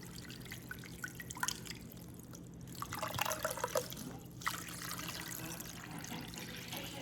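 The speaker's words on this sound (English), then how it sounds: "I'm going to cover this little guy with water" Water being poured over a chicken in a crock pot while making chicken stock, a soft, steady trickle with scattered drips and splashes, faint and close, with no voices.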